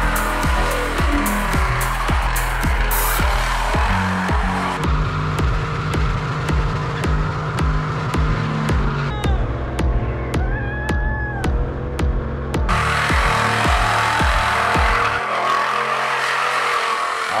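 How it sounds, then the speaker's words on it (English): A 500-horsepower Buick Electra station wagon on stock suspension does a burnout, its engine roaring loudly and steadily while tires squeal and skid, with rising and falling revs throughout and no talking. "burnouts"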